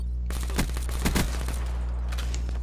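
Rapid gunfire in the video game Black Ops 3, bursts of loud, close shots fired in quick succession over a steady low hum.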